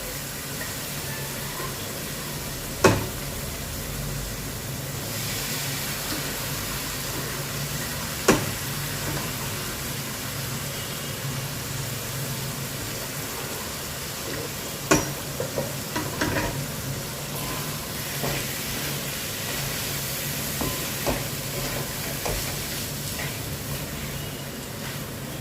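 Boiled rajma being stirred into frying masala in a pan, a constant loud sizzle and bubbling with occasional sharp knocks of the spoon against the pot and no voices.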